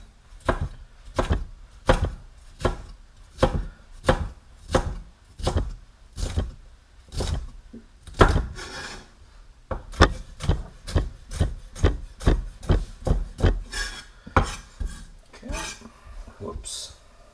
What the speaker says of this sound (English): It's just honing my knife.